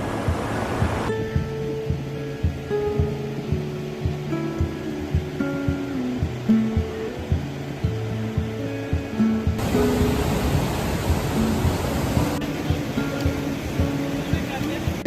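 A Himalayan river rushes beside a footbridge on the Madhmaheshwar trek past Gondar village: steady, broad roaring water noise throughout, with voices and other sounds layered over it.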